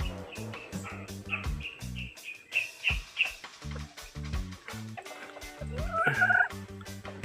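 Chickens in a backyard coop cluck and cackle in rapid, rhythmic bursts close by, with a few higher squawks and calls mixed in.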